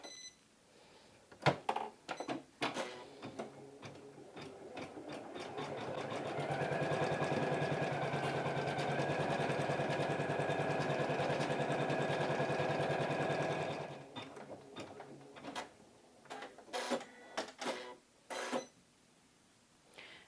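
A home embroidery machine stitches a design onto fabric held in a hoop, running as a steady, fairly loud mechanical whir for several seconds between handling clicks and rustles before and after, with no talking.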